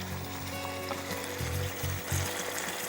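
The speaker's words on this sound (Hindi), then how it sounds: "तो अब मैं डालूंगी दही" Meat fries in masala while yogurt goes into the pot, giving a steady low sizzle and bubbling with a few soft stirring thumps near the end.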